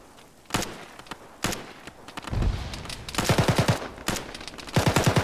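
Gunfire aimed at a vehicle in the ShackTac military video game: several sharp bursts and single shots, some near and loud, others echoing farther off, with rapid automatic rattles toward the end.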